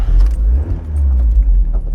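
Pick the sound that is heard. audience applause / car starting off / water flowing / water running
car starting off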